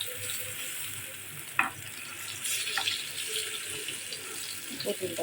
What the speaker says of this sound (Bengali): এই যে পটলটা প্রায় ভাজা হয়ে গেছে এখন নামায় ফেলবো আমি